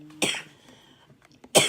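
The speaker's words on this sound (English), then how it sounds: "Now I'm starting to cough." A woman gives two short, sharp coughs, about a second apart, close to the microphone in a quiet room.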